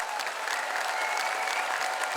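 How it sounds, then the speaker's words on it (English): Steady audience applause after a performance by a Capgemini Bangalore team at a corporate song event, dense and continuous throughout with a faint crowd murmur beneath. "Let's give them a round of applause"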